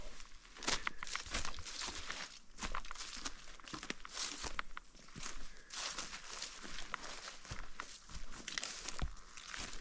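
Footsteps push through an uncut, log-strewn forest trail in Montana, with steady crunching, crackling steps on dry brush and debris, close and continuous.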